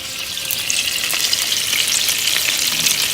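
Turkey meatballs browning in a hot pan give a steady, close sizzle of frying fat with faint crackles and the occasional stir, continuous and fairly loud, with no talking.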